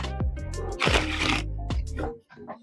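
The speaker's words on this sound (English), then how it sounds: "let's see if I can bridge shuffle" A bridge shuffle of a tarot deck, riffling in a dense crackling burst with low voiced sounds mixed in, followed by a softer second riffle and a brief pause near the end.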